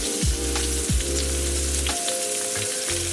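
A thin ribeye steak fries in a pan with a steady close sizzle, and low tonal hums come and go underneath it; no one speaks.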